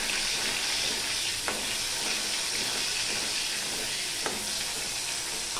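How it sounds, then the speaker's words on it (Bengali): Katla fish pieces fry in a pan with a constant crackling sizzle, and two brief scraping stirs stand out partway through. "আমি মাছ দিয়ে একটু নেড়ে দিলাম"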